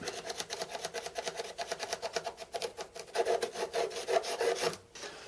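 A wooden board for a drill press table is marked up, with steady rhythmic scratching strokes of a marker or pencil across the wood, close and fairly quiet, ending abruptly.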